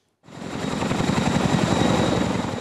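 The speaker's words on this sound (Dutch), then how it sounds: "Ik heb een verschrikkelijke hekel aan dat geluid van helikopters." Low-flying military helicopters over Zeeland, the Netherlands, approach with a loud, rhythmic rotor thudding and engine roar that swells quickly out of silence and holds steady and close.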